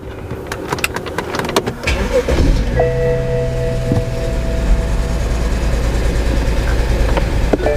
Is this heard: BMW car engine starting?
yes